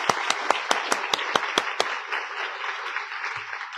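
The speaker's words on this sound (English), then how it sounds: "Can you join me in giving a Heidi a big round of applause?" An audience applauding a speaker at an asylum seeker centre event, opening with a run of loud, evenly spaced close claps from one person, then settling into a softer, steady crowd clapping that fades slightly.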